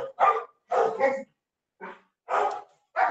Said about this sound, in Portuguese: desculpa, os cães estão latindo aqui.